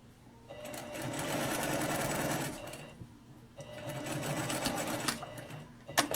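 A sewing machine stitches a flat sleeve cap with no pins: two steady runs of fast, whirring stitching with a brief pause between them, close and clear.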